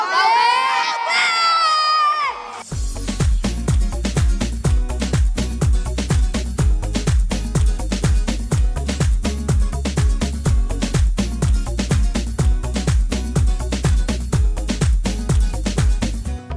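Santos fans at a football match cheer a goal with a brief, loud burst of crowd shouting and high excited voices. It gives way after about two seconds to a steady, pounding rhythmic beat.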